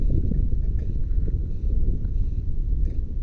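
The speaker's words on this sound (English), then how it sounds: "Probably too much wind." Strong wind buffets a microphone outdoors, making loud, continuous low-pitched rumbling and flutter that rises and falls throughout.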